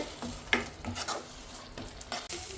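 A tomato and salt masala for egg omelette curry is stirred in a pan, giving a soft sizzle under close, quiet scraping strokes of a spoon with a couple of sharper clinks against the metal.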